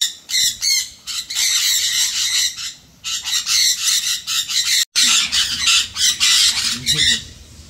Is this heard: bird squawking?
yes